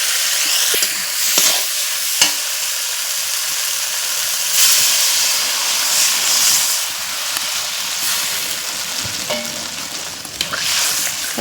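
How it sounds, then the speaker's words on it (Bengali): Water poured into a frying egg and potato curry sets off a loud hissing sizzle, which bursts up and then settles into steady bubbling steam. "এখন আমি জল দিয়ে দেব।"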